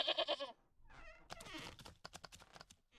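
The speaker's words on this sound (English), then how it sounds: "There's a goat in my house." In the video game Wytchwood, a goat bleats inside a house, giving a short nasal bleat followed by quieter rustling, clicks and shuffling, all fairly faint.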